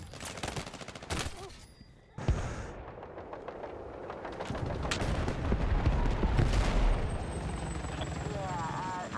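Battlefield sounds from a military video game: sharp bursts of gunfire, rattling machine-gun volleys and booming explosions, loud and layered, with a voice speaking partway through.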